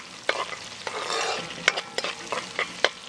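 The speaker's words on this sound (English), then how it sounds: "Some coriander, some allspice, and some cumin seeds. Just give that a quick stir" Coriander, allspice and cumin seeds sizzle in a curry pot over an outdoor coal fire, with sharp spoon scrapes and clinks in an uneven rhythm and no talk over them.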